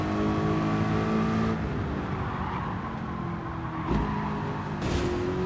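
A Ford Focus carrying a swapped-in V8 runs the Tokyo Expressway in Gran Turismo 7, its engine a steady, loud, throaty drone whose pitch drops and climbs again through a few gear changes.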